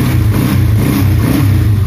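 A motorcycle engine runs steadily after an engine flush, with a loud, continuous low rumble and slight swells suggesting gentle revving, heard alone without talk.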